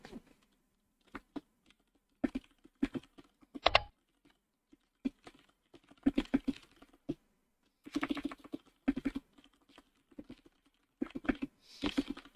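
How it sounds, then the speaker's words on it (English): A computer keyboard is typed on in scattered bursts of quick clicks with pauses between, close and fairly quiet, during an online shogi game, with no talking. "I don't know why I'm typing"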